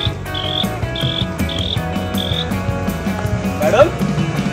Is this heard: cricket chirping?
yes